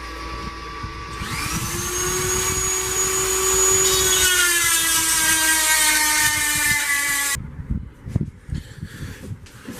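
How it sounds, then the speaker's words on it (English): A Dremel rotary tool grinds curves into a homemade steel knife blade. It gives a loud, close, high whine that spins up, holds with a shifting pitch, and then cuts off, leaving scattered clicks and handling noise. "I'm just taking my Dremel tool and going in and getting those curves in"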